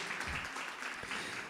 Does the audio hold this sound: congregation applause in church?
yes